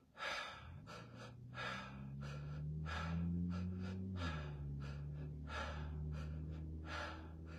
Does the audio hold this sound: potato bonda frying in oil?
no